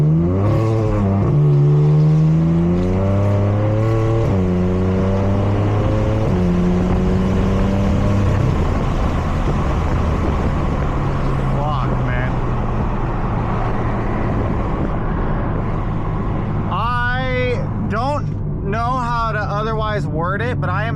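A BMW F80 M3 engine on a dyno climbs through repeated revs, its pitch rising and falling in steps, then settles into a loud sustained drone while someone talks over it near the end.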